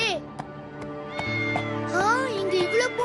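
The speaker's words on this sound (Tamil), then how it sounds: "இங்க இவ்வளவு பூனைங்க இருக்கே" Several cats meow repeatedly with rising and falling cries, close and clear, with talk and music in the background.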